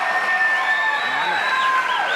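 A studio audience at The Johnny Carson Show applauding and cheering in a steady, close roar with whistles rising through it.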